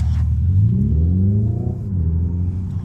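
A Hyundai Ioniq 5 N in sport mode gives off a loud, close synthetic engine note that rumbles low and sweeps upward in pitch as if revving, then eases back down, with no talking over it.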